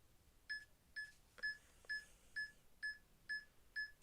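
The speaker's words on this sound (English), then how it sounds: "That beeping was because the magnetic thing in it like caught the electronicness" An EMF meter held near a laptop gives eight evenly spaced short electronic beeps at a steady rhythm over a quiet background.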